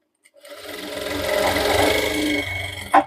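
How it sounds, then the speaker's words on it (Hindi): A sewing machine stitching a shirt sleeve cuff runs in one steady whirring burst for a couple of seconds, close and clear, ending with a sharp click. "यहाँ से लेकर और यहाँ तक एक सिलाई को लगाएंगे।"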